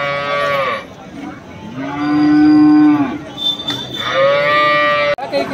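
Native cows and calves at a cattle market lowing loudly and close by, several long drawn-out moos one after another with quieter crowd murmur between them.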